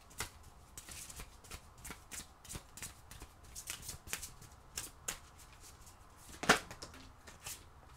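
Oracle cards are shuffled in a quiet room, with repeated soft riffling and flicking strokes in an uneven rhythm and one sharper slap near the end.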